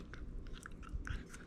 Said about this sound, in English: Right now, she just wants to chew on this thing